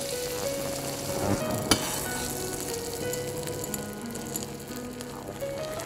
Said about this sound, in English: So I'll just place it down on either side. So we'll spoon some of the butter over it.